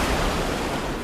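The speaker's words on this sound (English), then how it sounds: "Waves hit Doolin Pier at roughly 10 to 20 miles per hour." Ocean waves strike the pier at Doolin, a dense continuous roar of surf and spray, loud and close, filling the brief moment without any voices.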